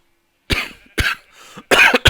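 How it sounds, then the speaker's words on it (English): A man with a strained throat coughs in a short fit of harsh, close bursts, three main coughs with a rougher throaty cough between them and a final quick hack, with no speech. "Another coughing fit. In fact, 2 coughing fits."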